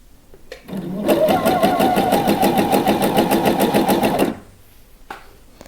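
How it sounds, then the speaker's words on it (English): Lace lingerie is stitched on a cover stitch machine in a steady, fast mechanical whirring run of about three seconds, starting and stopping abruptly, heard up close with no talking over it. "I do have a cover stitch machine, and I want to show you how easy it is to put it on that one."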